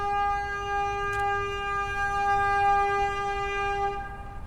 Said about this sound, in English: Some dude honking at me.